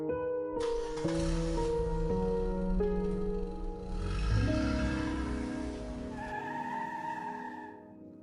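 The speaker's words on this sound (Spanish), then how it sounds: "Y el auto cuando lo encendí y derrapé." A car engine turns over and revs, then its tires screech in a long skid as it pulls away, the sound rising in pitch before fading out.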